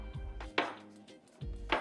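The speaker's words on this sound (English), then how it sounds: "Just keep chopping, bro. We want it nice and fine." A knife finely chopping food on a board for a Nashville chicken burger, a few quiet close-up knocks and scrapes in two short bursts with pauses between, no speech.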